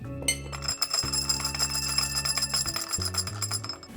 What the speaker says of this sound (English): we're going to go ahead and give that a quick stir